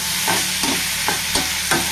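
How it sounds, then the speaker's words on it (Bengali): Veti greens fry with potato and onion in a pan, a continuous loud sizzle broken by several sharp scrapes of stirring at a steady pace. "এদিকে দেখো আলু পেঁয়াজ দিয়ে ভাজছি ভেটির শাক"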